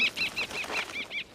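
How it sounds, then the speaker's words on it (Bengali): A bird's wings flapping in a rapid series of about seven soft, fluttering beats, fairly close and quiet, with no voices over it. "ওটা একটা পাখি।"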